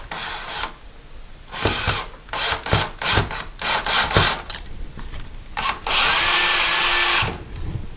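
A power screwdriver driving screws into window blind brackets, starting with a series of short rattling bursts and ending in one long, loud, steady whirring run, close by.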